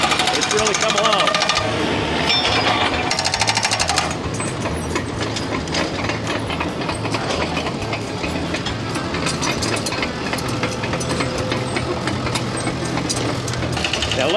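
Bulldozer cleaning out a drainage ditch on a newly built mountain road, a continuous rumbling diesel engine with clanking, grinding track and blade noise, with someone talking over it.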